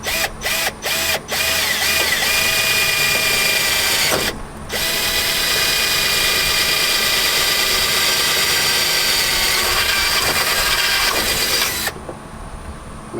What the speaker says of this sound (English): Go ahead and drill out this hole.